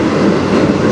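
A freight train on the Strathroy subdivision near Sarnia rolls past close by, a steady, dense rumble of railcars and wheels filling the whole second with no pauses.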